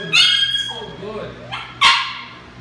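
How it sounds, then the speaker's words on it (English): A three-month-old puppy barks in a home during crate training, giving two sharp, loud yips close by with a whimpering whine between them, while a person speaks over the sounds. "the dog in the background"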